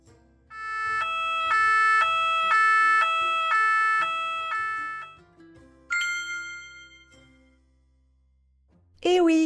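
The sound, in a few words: fire engine siren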